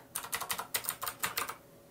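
Clicky mechanical gaming keyboard with Cherry MX switches being typed on, a quick burst of about a dozen sharp key clicks in uneven rhythm, close and fairly loud, then stopping.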